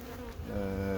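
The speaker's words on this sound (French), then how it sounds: "J'ai des abeilles un peu agacées, je trouve." Agitated honeybees buzz steadily at an open hive in late August, a close, continuous droning hum that swells slightly in pitch and loudness partway through.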